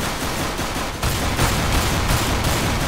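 Dense, continuous gunfire in CS:GO fills the whole stretch, loud and close, with no voices heard over it.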